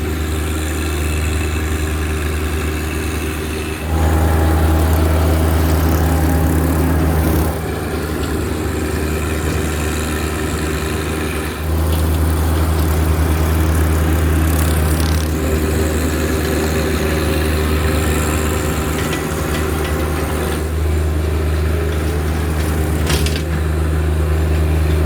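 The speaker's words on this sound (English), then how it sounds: "so I'm going to go over here and hop on the tractor. We'll bush hog all of this area out" A tractor engine runs steadily while a bush hog mows a field. The low drone stays continuous and close, with slight shifts in load now and then.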